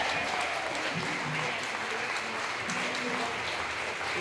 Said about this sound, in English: give a round of applause for once again at the Opera House